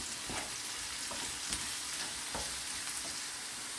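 Garlic sautéing in a pan for garlic pickle, a steady close sizzle broken by occasional scraping stirs, with no talking.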